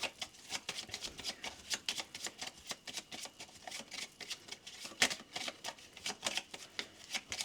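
Playing cards riffled and shuffled by hand for a morning tarot-style card draw, a steady run of quick crisp flutters and soft snaps repeating close up, with no talking.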